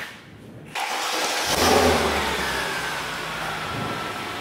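A Mercedes-AMG car engine cranks and fires up after a moment of quiet, then rises into a loud, close rev before settling into a steady, throaty idle.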